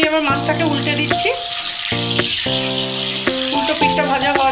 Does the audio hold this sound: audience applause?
no